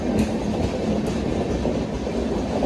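The Kerala Superfast Express rolls slowly along the main line at Wadakancheri station, a loud continuous rumble with rhythmic wheel clatter over the rail joints, heard close by with no voices.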